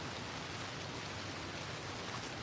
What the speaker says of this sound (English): Oh, it's raining, guys.